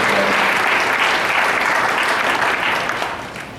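An audience at a school holiday celebration bursts into steady, dense applause that holds strong and then fades toward the end.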